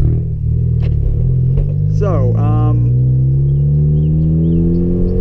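A 2014 Ford Focus ST hatchback engine hums and rumbles steadily while driving, the pitch slowly rising as it accelerates, with a brief voice partway through.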